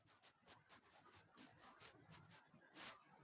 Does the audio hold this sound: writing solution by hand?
yes